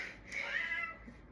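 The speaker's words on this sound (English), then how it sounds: "Oh, that's my cat." A pet cat lets out a single drawn-out meow, fairly close and moderately quiet, heard alone with no talking.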